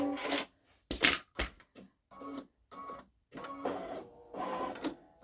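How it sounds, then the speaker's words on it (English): A Babylock Solaris embroidery machine stitches out an in-the-hoop zippered bag design, giving close, stop-start bursts of mechanical whirring and clicking separated by brief pauses, with no talking. "So I figure you all are interested in seeing that short stitch out, since it's kind of fun to watch it come together"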